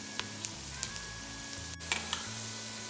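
Onions sauté in a hot pan with a steady soft sizzle and occasional light pops and clicks of stirring, close and even throughout.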